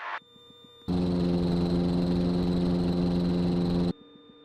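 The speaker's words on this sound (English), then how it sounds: "Engines in the green, full power" A Lake Buccaneer seaplane's engine roars loud and steady at full takeoff power with a strong droning hum, starting abruptly after a quieter idle and cutting off near the end.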